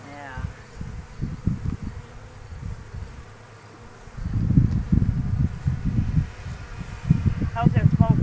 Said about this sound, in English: You can see there's still a lot of bees on this.